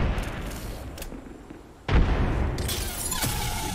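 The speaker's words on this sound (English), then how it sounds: "Throwing grenade." A grenade explodes in a shooter game, a sudden loud boom partway through followed by a rumbling, debris-filled tail, with earlier background battle noise.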